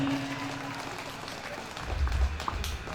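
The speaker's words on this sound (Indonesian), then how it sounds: "Mohon tepuk tangan untuk mereka" Applause from an audience at a school graduation ceremony, a continuous patter of clapping with a brief voice at the start and some low rumbling thumps near the end.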